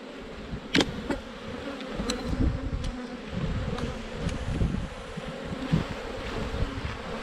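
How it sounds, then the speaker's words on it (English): Honeybees swarm around an opened hive during a full inspection, a close, steady buzzing drone with individual bees zipping past the ear now and then. "Lots of bees in here."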